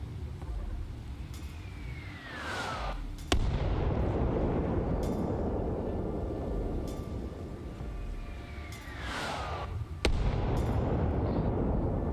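Two mortar rounds in Arma Reforger each whistle down on a falling tone and end in a loud, sharp impact boom, several seconds apart, with faint distant crackles of gunfire between them and no speech.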